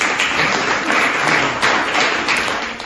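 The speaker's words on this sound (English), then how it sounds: "Give him a round of applause." An audience applauds an artist in a steady, dense wash of clapping that stays fairly loud and even from start to finish.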